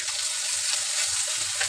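Ginger, garlic, cumin and coriander pastes frying in a pan for a country chicken curry, a steady close hiss and sizzle with no voices.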